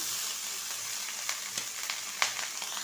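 Cooked rice tossed with garam masala and salt in a hot pan for ilish pulao, a soft continuous sizzle with faint scraping stirs, no voices.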